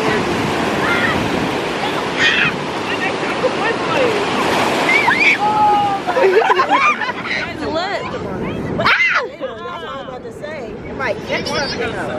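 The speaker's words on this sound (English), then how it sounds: "We're in the beach" Ocean waves rolling onto a beach, a loud continuous wash of surf with wind buffeting, under excited voices and chatter from people nearby.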